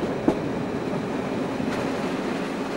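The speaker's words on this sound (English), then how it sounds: "Ahead, a train from Nymburk direction heads for Prague's principal station" A train heading for Prague's principal station from the Nymburk direction rolls along the rails with a steady rumble and one sharp clack near the start, close and continuous at early rush hour.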